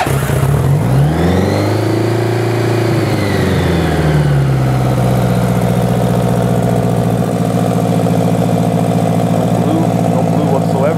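A 1983 Honda Goldwing motorcycle engine cranks and catches on choke for the first start of the day, its pitch swelling then settling into a loud, steady, high idle close by.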